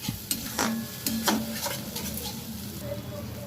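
Masala with tomato paste fries in a pan for a potato curry, a steady close sizzle with a few sharp metallic scrapes and clinks from stirring near the start, then an even hiss.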